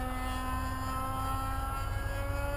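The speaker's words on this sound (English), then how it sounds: "he's getting a real RC miniature real turbine jet" An RC miniature turbine jet airplane roars past, a loud steady whine holding constant high tones.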